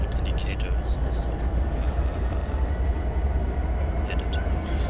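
Trains in the Trainz railroad simulator starting up and moving, with a steady low rumble and engine drone running throughout at constant loudness, plus faint higher clanks and hisses.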